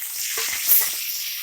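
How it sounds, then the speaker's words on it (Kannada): Chopped tomato with onion and a little tamarind sizzles steadily in a hot pan, a bright continuous hiss with faint crackles and a brief stirring scrape, close and without talk. "ಇದೊಂದು 2 ನಿಮಿಷ ಫ್ರೈ ಮಾಡ್ಕೊಳ್ಳಿ"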